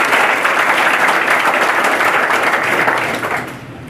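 At an academy anniversary function, an audience applauds loudly and steadily in a dense wash of clapping, which tapers off toward the end.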